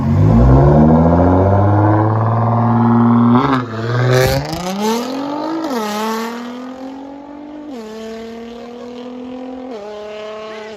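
A twin-turbo Nissan GT-R or supercharged Hemi V8 Dodge Challenger Hellcat Redeye engine runs up close with a deep, loud, steady rumble, broken by a few quick upward blips in pitch before settling back to a lower throb.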